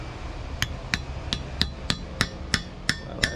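Hammer knocking a pin through an excavator bucket, with a socket set over the grease fitting: ten sharp, close metallic strikes in a steady rhythm, each ringing briefly.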